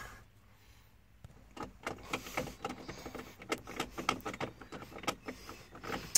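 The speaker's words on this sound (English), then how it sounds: "now we just got to get our screws back in here." Screws are driven back into the dashboard of a 2011 Ford Explorer, a rapid series of short whirring bursts and clicks close by after a quiet start.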